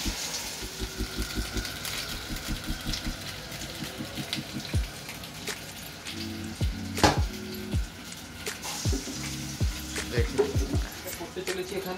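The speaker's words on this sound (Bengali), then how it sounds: "চিকেনগুলোকে একটা শ্যালো ফ্রাই করে নেবো যাতে কিনা চিকেনের মধ্যে সেই জলজ জলজ ভাবটা না থাকে" Chicken pieces shallow frying in oil for a chicken biryani, with soft crackling sizzle and intermittent clatter of a utensil against the pan, moderately close.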